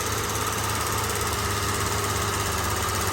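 A BMW engine with an old fixed-displacement AC compressor runs at about 2100 RPM, a steady close hum with a constant rhythmic throb.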